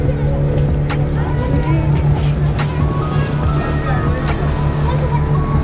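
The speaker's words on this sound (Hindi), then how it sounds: "चल रहा है क्या बोट? चल रहा है दोस्तों, देख लो।" A motorboat off Goa runs its engine with a loud, steady droning hum that never lets up, and voices and background chatter can be heard over it.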